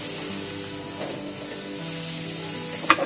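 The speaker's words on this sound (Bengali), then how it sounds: "এবারে ফোড়ন দিয়ে দিব জিরে জিরেটার একটা ঘ্রাণ ছড়িয়ে আসলেই দিয়ে দিব পেঁয়াজ কুচি" Chopped onion fries in hot oil with a cumin seed tempering, giving a steady, even sizzle throughout with a small clink from a utensil near the end.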